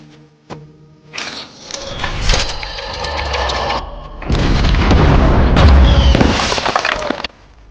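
Loud explosions and blasts from an action movie scene at a hidden drug factory, with a sharp bang, a rumbling burst, then a longer, heavier roaring explosion that fills the soundtrack before cutting off.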